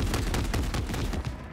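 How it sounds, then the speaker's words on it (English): A mounted machine gun fires from an armored vehicle in Modern Warfare III, a rapid run of evenly spaced shots packed into under two seconds, loud and close over a low rumble. "John got a mounted MG coming your way on an armored vehicle"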